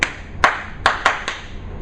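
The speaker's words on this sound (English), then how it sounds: "What I found effective is the clapping. So I have a clap that I might do." A teacher in a classroom claps a rhythmic pattern to quiet students: five crisp, close hand claps in an uneven rhythm, with a pair close together near the middle, clear and alone.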